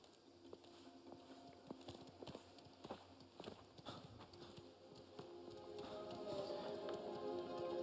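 Horse hooves clip-clop in the Sicilian countryside of the video game Mafia: The Old Country, a steady run of light taps at moderate distance with soft ambient noise and a rising background hum toward the end.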